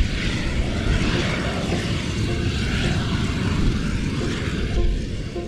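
A fracking gas flare in an oil field roars steadily and loudly, a broad, airplane-like rumble that swells slightly and holds for several seconds, with no one talking.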